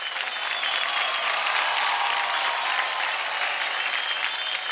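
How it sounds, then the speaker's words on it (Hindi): A studio audience on a televised dance competition gives loud, dense, steady applause throughout, with crowd noise mixed in. "Come on guys, जोरदार तालियां हो जाए।"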